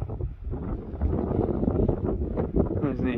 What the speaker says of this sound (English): Too windy.